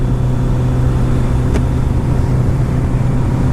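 A 1985 Kawasaki GPZ 900 R motorcycle on a test ride, its engine a steady, close drone with wind rush, constant throughout without pauses.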